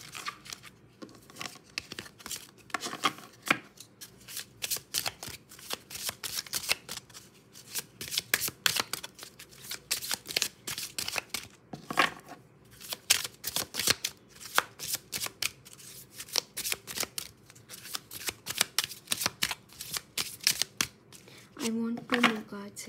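Cards shuffled over and over for a reading, with a dense run of crisp riffling and snapping bursts that continues almost without pause, under quiet intermittent speech.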